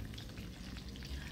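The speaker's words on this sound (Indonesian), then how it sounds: "Kita goreng dulu kacang tanah." Peanuts fry in oil in a pan over a low flame, a quiet close sizzle with faint stirring scrapes throughout a short moment.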